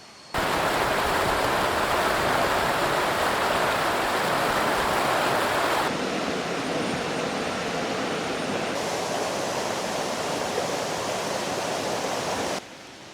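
A river flowing beside a campsite, a dense, steady rushing of water that stays loud and even throughout with no voices, its tone shifting slightly partway through.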